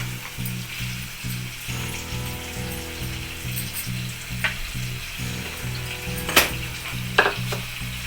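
Potatoes frying in oil in a pan for a French beans potato fry, a steady close sizzle with occasional stirring scrapes and clinks of a utensil against the pan.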